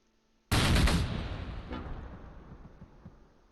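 Gunfire in the World War II tactics game Close Combat, suppressing fire near the Fontenay-Caen road: a sudden loud burst of shots that rolls into a decaying rumble, with a few fainter reports trailing off.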